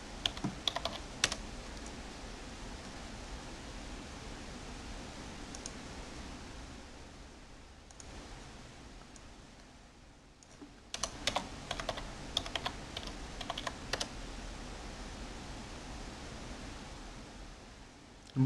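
Quiet keyboard typing in two bursts of scattered keystrokes with a near-silent pause between them, over faint background noise.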